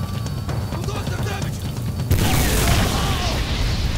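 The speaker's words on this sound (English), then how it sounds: "it involved a fire and explosions everywhere." Booming blasts and crackling bursts erupt suddenly midway in the video game Singularity, giving way to a dense, continuous roar of explosions and fire after a quieter stretch of rumbling.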